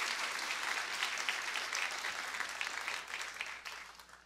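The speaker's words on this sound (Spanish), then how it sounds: "Aplauso para ustedes." Audience applause at a sustainability report presentation, a steady wash of many hands clapping in a large room that slowly tapers off toward the end, with no voices.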